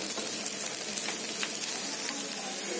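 Small shallots sauté in a pan with a dense, constant sizzle and crackle, close and steady for a few seconds with no voices.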